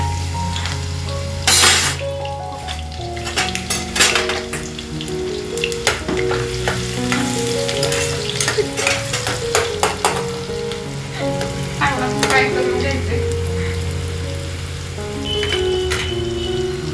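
Onion frying in hot oil in a pan for chole masala, a continuous sizzle with occasional stirring scrapes and clinks, close and fairly loud.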